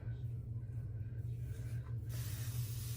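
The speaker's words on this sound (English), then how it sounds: "Why my spray bottle whistling?" A hand spray bottle misting hair during a wash-and-go styling session gives a steady, faint hiss with a low hum underneath, continuing without a break.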